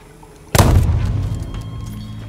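A single loud, booming sniper rifle shot in the video game Deathloop cracks out suddenly, then rolls away in a long fading echo.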